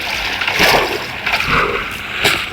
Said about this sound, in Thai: เหมือนเสียงใครมาว่ายน้ำด้วยนะครับ